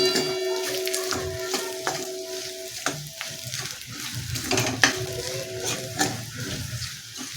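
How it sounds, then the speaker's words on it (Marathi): Finely grated coconut roasting in a pan over a reddened paste for kadhi, a close, continuous crackling sizzle broken by scraping stir strokes, with no voices. "यानंतर आपण याच्यामध्ये बारीक केलेलं खोबरं घालायचं आहे खोबरं पटकन भाजलं जातं"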